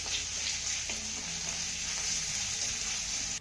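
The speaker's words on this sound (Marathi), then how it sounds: "घातलेला कोबी चांगला मिक्स करून घ्यायचा आहे." Chopped cabbage fries with softened onion in a pan, giving a steady close sizzle broken by a few scraping stirs, with no talking.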